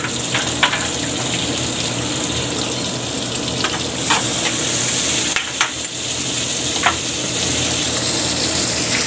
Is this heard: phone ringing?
no